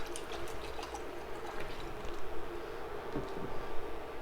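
Water is poured into a pan holding onions and an orange juice base, a soft continuous splashing trickle heard close up and alone.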